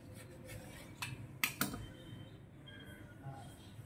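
Samosa pastry sheets being cut in a home kitchen, giving a few quiet, sharp metallic snips and clinks spaced apart over a soft background hum.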